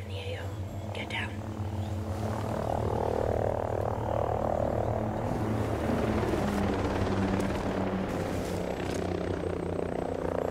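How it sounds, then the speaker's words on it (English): A video-game enemy helicopter drones steadily overhead with a low throbbing rotor hum, continuous and fairly loud, with faint voices mixed in underneath. "Enemy chopper in the AO."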